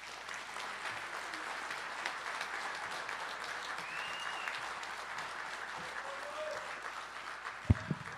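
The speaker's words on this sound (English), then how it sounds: "Please give a round of applause for Snohomish County Sports Hall of Fame inductee" Steady applause fills a banquet hall as the audience at the Snohomish County Sports Hall of Fame induction banquet welcomes an inductee, a dense even wash of clapping that carries on throughout at moderate level.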